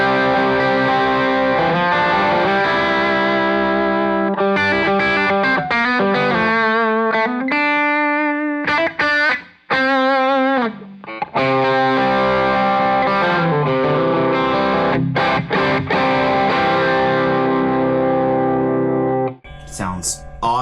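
Electric guitar played through an Elliott Tone Master pedal in a travel rig, a loud, distorted, sustained tone with held notes, bends and short pauses, carrying on steadily for about twenty seconds without talk.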